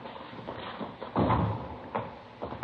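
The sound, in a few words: door being opened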